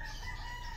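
Farm chickens in Tanawan, Batangas, cluck and crow in a continuous, fairly loud chorus, with no talking over it.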